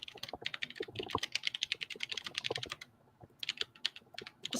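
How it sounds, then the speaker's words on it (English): Fingers tap rapidly on a computer keyboard, close and fairly quiet, in quick uneven bursts of clicks with a short pause midway before typing resumes. "I'm just typing this really quick"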